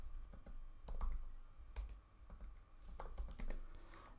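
Computer keyboard keys clatter in quick irregular bursts of clicks while a Minecraft command is typed, close and fairly quiet with short pauses between runs of keystrokes.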